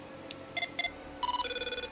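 A custom iPhone ringtone made by the iPhone Dev Team hackers plays alone as a short run of bright electronic tones, first a few separate notes and then a quick repeating melodic pattern.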